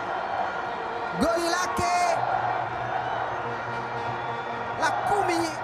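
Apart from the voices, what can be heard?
football fans cheering in the stadium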